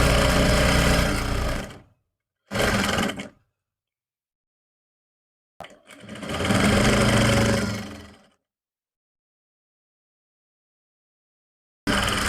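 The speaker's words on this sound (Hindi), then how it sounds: "ऐसे मिलाने के बाद अब ये सिलाई यहाँ तक हम लगा लेंगे।" A domestic sewing machine runs in bursts while stitching a salwar belt seam, one long whirring run followed by shorter stop-start runs with silent gaps between them, close and steady.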